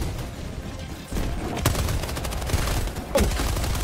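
Rapid bursts of gunfire and explosive blasts from an orbital strike in a VR treasure hunt video game, loud and dense with sharp booms near the middle and end.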